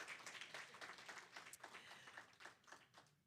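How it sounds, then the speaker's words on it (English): A church congregation at a Sunday celebration service gives a round of applause, a quiet, steady patter of many hands clapping that fades out at the end. "Give her another round of applause."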